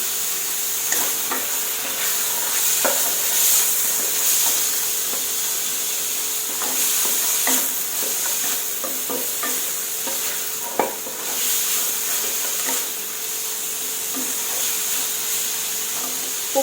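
Long beans stir-frying with red curry paste in a pan, a continuous bright sizzle with scattered scrapes and clicks of stirring throughout, close and steady, no voices.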